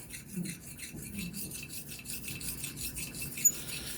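Knife blade stroked in repeated laps across a Vermont green slate sharpening stone with slurry, a steady close scraping rasp that continues through the whole stretch without talk.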